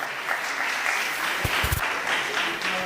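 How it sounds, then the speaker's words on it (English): Audience applause at a Kenyan school event linked to an ARISS amateur radio contact with the International Space Station, a steady crowd clapping that fills the whole moment with a few louder sharp claps near the middle. "a round of applause for that"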